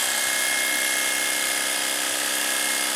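An electric sheep shearing clipper runs close by in preparation for shearing, giving a steady, loud mechanical buzz and whine that holds unchanged throughout.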